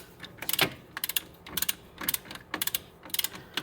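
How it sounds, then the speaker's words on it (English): Torque wrench clicking in quick bursts as a front strut bolt on an 04-06 Scion xB is tightened, sharp ratcheting clicks in close groups of three or four, close and clear with no talking. "And then go ahead and torque this to 97."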